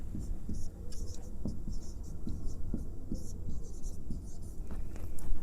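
Chalk or marker scratching across a board during a physics lesson, a run of short close strokes and taps over a steady room hiss.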